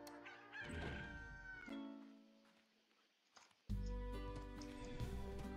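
Chickens in the video game Slime Rancher cluck and crow in several loud, close calls separated by brief quiet gaps, with a soft thunk partway through and no talk.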